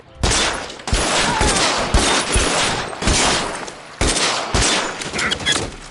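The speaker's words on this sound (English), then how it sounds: "Lay down some covering fire." Sustained bursts of gunfire in L.A. Noire's shootout, rapid volleys of shots in several loud clusters with brief gaps between them, no talking.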